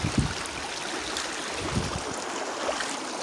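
Creek water rushing steadily at a trail stream crossing on a hike, a close, continuous broadband flow with a few soft splashes and no talking.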